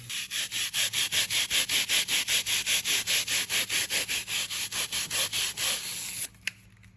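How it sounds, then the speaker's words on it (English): A brush scrubs a car seatbelt coated with cleaner in fast, even back-and-forth strokes, about four per second, close up and loud, stopping abruptly near the end. "Use this brush to clamp it on here and let's do some scrubbing"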